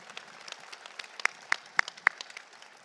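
A small crowd gives the New Sunny Mount Baptist Church Choir a round of applause at a memorial statue unveiling, with light scattered clapping and a few sharper, louder claps standing out near the middle.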